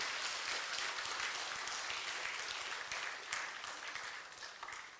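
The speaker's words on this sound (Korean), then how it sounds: "하나님께 영광의 박수 한번 칩시다" A congregation claps together during a Sunday worship service in a Korean church, a dense, sustained wash of applause filling the room and tapering off gradually near the end.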